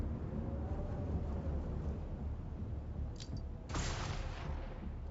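A flashbang grenade goes off in the Xenonauts 2 video game, a sharp bright burst near the end of a dense, rumbling game soundscape.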